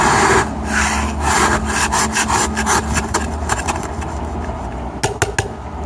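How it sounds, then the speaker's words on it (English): Plastic ice scraper rasping frost off a car window on the first hard frost of the year, a run of quick, close scrapes in uneven strokes with a few sharper strokes near the end. "Got an ice scraper here"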